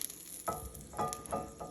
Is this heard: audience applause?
no